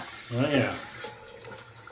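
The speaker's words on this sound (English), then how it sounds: "Got the new faucet." Water runs from a newly installed faucet in a small powder room, a soft steady flow heard beneath a short exchange between people talking.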